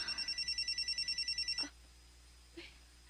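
A telephone rings in a radio drama, a rapid electronic trill repeating for about a second and a half before cutting off, close and clear, followed by a faint brief thump.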